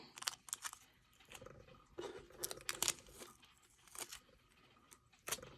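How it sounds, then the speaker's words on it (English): Tape is peeled off during bracelet-making, giving a series of faint, close tearing and crinkling bursts spread irregularly across a quiet background. "Now we're going to take our tape off again."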